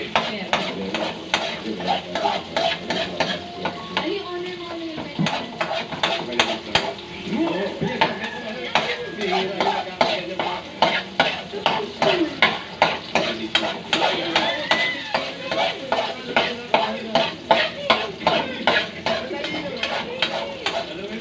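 Garlic and onion sautéing in a pan, with a low sizzle beneath a steady run of rhythmic spatula taps and scrapes against the metal, close and repeated throughout, with brief speech at times.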